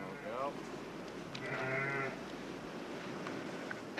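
Sheep bleating amid a noisy outdoor background, two or three short wavering bleats, one early and a clearer one near the middle, heard beneath someone talking.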